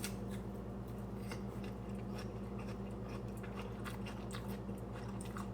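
Crisp bites and chewing of a gala apple slice, close to the ear but quiet, with repeated crunchy bursts over a low steady hum, no talk.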